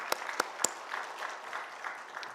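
Congregation in a Sunday church service clapping for a departing fellowship group, a few sharp individual claps at the start giving way to soft, steady, fairly distant applause.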